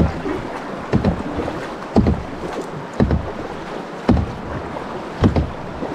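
A canoe back-paddling on the Kettle River: rhythmic paddle strokes about once a second, each a soft splash and swirl of water, over steady wind and rushing-water noise close to the microphone.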